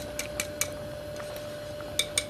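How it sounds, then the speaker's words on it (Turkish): A wire whisk beats plain yogurt in a large bowl, tapping against the sides in quick, light metallic clinks that come in small clusters and pauses over a faint steady hum, close by and alone. "Onu şöyle çırpıcıyla ilk başta çırpıyorum"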